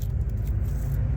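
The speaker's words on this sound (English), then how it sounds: "you can hear the traffic going by." Traffic rumbles past on a road in front of a yard where an old camper sits, a steady low vehicle drone with faint rattling, heard alone and fairly loud.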